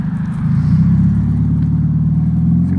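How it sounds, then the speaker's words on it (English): A Scion car with a loud, faulty exhaust rumbles nearby, giving off a steady, heavy low drone with no talk over it. "That guy really needs to fix his exhaust on his Scion. That thing sounds like shit."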